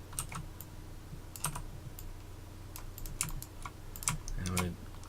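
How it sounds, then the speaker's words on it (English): A loud mechanical computer keyboard clacks in quick bursts of keystrokes with short pauses between, close up, while a voice talks quietly beneath. "I apologize if my keyboard sounds horrifyingly loud to you. It's a mechanical keyboard, and yes, it is loud."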